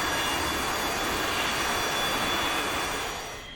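A jet aircraft engine roars steadily and loudly while taxiing toward the runway in a flight game, a broad sustained whine that eases off slightly at the very end.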